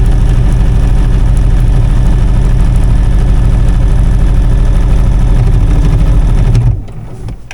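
A sewing machine runs fabric through in random stitching for crazy quilt cushions on a folding chair, giving a loud close steady mechanical whir that stops sharply near the end.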